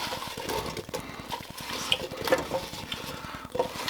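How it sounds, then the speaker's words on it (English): Sliced apples, about four pounds, tumbling into a bowl for an apple raisin pie, with soft clattering and scraping pieces, a few brighter clinks of a utensil against the dish, close and steady throughout. "I'm going to add my apples."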